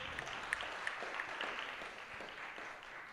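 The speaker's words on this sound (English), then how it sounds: "You can give him a round of applause again." Audience applause at a youth conference on sustainable development goals, a steady crowd patter of many hands clapping with a few sharper claps standing out, sustained for the whole stretch at moderate distance.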